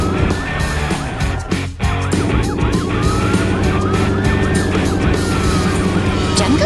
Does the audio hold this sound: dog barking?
no